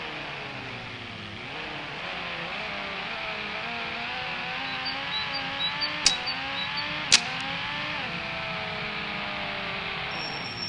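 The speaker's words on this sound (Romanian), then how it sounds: "Mamă, cum face mașina când e tunată." A tuned JDM drift car's engine revs close by, its pitch climbing and dropping through repeated throttle swells with a couple of sharp clicks, loud and steady with no talking.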